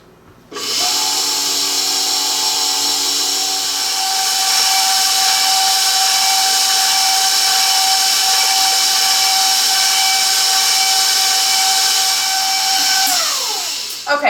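An electric stand mixer runs steadily on low speed, beating half a stick of melted butter with two large eggs, a continuous motor whine with strong harmonic tones holding for about twelve seconds before spinning down.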